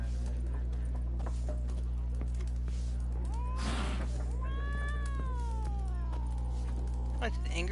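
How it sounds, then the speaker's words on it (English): An angry cat meows and yowls in The Witcher 3, a strained drawn-out cry over a steady low game hum, with rustling movement and other in-game sounds around it. "That's an angry cat."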